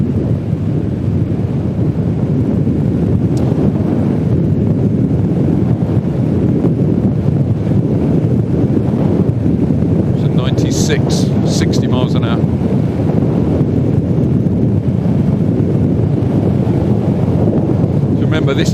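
Heavy, steady wind roar buffets the microphone on a Horwin SK3+ electric motorcycle ridden at 50 mph on two batteries. It runs loud and unbroken throughout, with a brief higher-pitched whine partway through.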